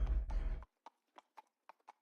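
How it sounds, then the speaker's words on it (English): Horse hooves clip-clop in the Save the Villainess game: a burst of rumbling movement, then six or so soft, evenly spaced hoofbeats, faint and alone. "Come on, horse."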